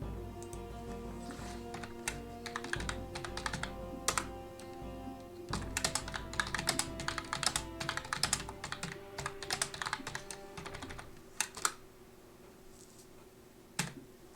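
Rapid typing on a worn, backlit computer keyboard with fading key paint, dense clattering keystrokes near and loud for most of the stretch, thinning to a few isolated taps at the end over a steady background hum.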